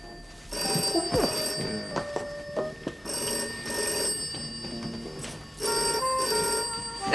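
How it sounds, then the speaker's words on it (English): An old-style telephone bell rings in repeated bursts with brief gaps, a steady trilling ring heard clearly and fairly close. "The telephone, it's ringing."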